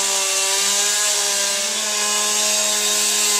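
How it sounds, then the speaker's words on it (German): A small chainsaw with a finely cut, oiled 30 cm bar drones loudly and steadily as a wood carver shapes wood during a live art performance, its high whining engine tone holding throughout. "ganz, ganz filigran geht er her mit einer kleinsten Kettensäge"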